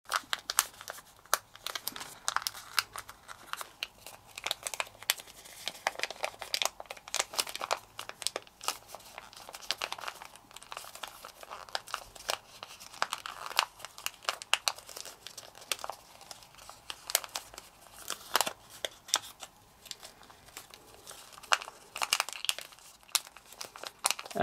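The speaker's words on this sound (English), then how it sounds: "make your swivel folds" Origami paper being folded into a puffer fish with swivel folds, giving continuous close crinkling and crumpling with frequent sharp rustles and crisp creases throughout.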